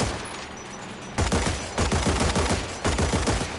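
Anti-aircraft guns fire at a plane in the War Thunder game, loud rapid bursts of automatic fire with sharp repeated reports broken by short pauses.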